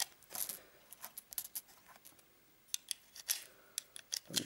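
Blank cartridges being pressed one by one into the magazine of a Glock 17 blank pistol, a series of crisp metallic clicks and snaps in an irregular rhythm, close and clear with no talking.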